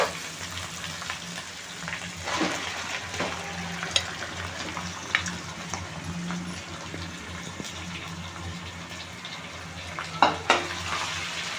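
Chicken fries with ginger paste in a pan for pulao, giving a steady, fairly quiet sizzle with occasional scraping stirs and small pops throughout.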